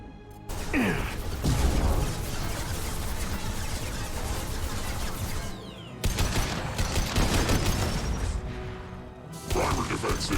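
Sustained weapons fire in the Mass Effect 2 video game: dense bursts of gunfire and mechanical clatter that break off briefly around six seconds and near nine seconds, then resume loudly.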